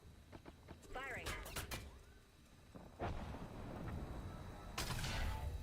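Gunfire in an Apex Legends match, bursts of shots and impacts arriving in clusters with loud rattling stretches near the start and end, mixed with game effects and a player talking over the action.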